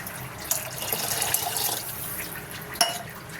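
Water splashing and pouring into a pan, with a couple of sharp clinks, steady liquid sound for a few seconds.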